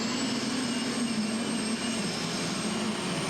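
A light weight super stock pulling tractor, an International with a Ford hood, roars at a steady, loud, sustained pitch throughout a pull, with no talk over it.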